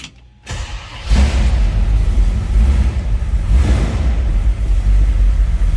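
A 1963 Chevrolet Impala two-door hardtop with a 383 V8 and automatic transmission cranks briefly, then catches into a loud, deep, steady idle rumble that fills the rest of the moment.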